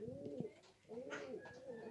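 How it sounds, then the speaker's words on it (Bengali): Pigeons at a small pigeon farm give soft, rolling coos in repeated phrases, close and clear, with faint background chatter. "অনেকগুলো কবুতর ওনার খুব যত্ন করে লালন পালন করে।"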